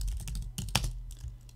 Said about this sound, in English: You'll notice I'm typing a bunch of stuff